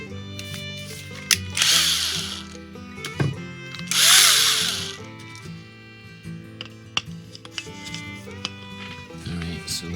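A drill spins an inexpensive spray paint mixer in two loud whirring bursts, with clicks, rattles and handling knocks between them and some faint background voice.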